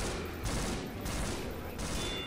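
Dense, continuous gunfire from a TF2-style shooter, Open Fortress, during a gun game match, loud and sustained in rolling bursts for the whole stretch with no voices.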